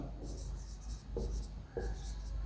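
Hand writing on a classroom board during a grammar lesson, a few scratchy strokes in short bursts, close and fairly faint, with a teacher's voice speaking alongside.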